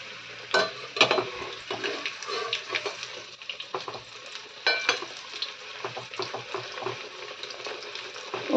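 Fish sizzling and frying in a pan, a steady crackling bed with repeated scrapes and stirring clatters of a utensil against the pan, close and fairly quiet throughout.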